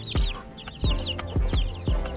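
Ten-day-old chicks out in a yard for the first time peep in a run of high, rising chirps, several overlapping, close by, with a few dull knocks and thumps in between.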